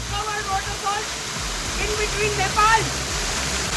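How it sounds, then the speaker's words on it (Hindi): Small waterfall of very cold water on a road trip route between Kathmandu and Ayodhya in Nepal, a steady broadband rush and splash heard up close, constant and fairly loud throughout. "हमें एक झरना टाइप मिल गया तो हम यहाँ रुक ही गए।"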